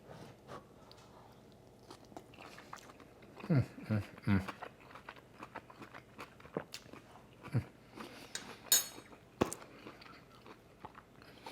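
Crunchy bites and chewing of crack slaw, a cabbage and pork dish just off an American Made Muscle Grill, heard in a few scattered close bursts amid quiet room sound.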